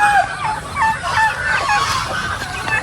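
Several free-range chickens cluck and chatter over steady farmyard background noise on a grassy farm, with short squawks rising throughout.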